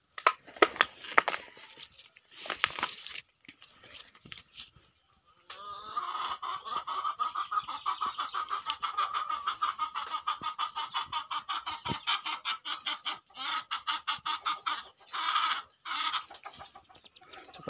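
A rooster on a rural Philippine farm clucks in quick repeated bursts, near and clear, after a few scattered sharper calls and short pauses, with no talk.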